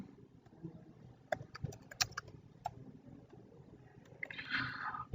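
Keys tapped on a computer keyboard while text is entered into a Microsoft Word document, coming as quiet irregular clicks in short bursts close to the microphone, with a brief breathy noise near the end.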